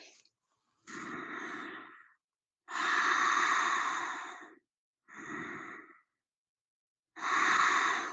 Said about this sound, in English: Two more long rounds of breath here.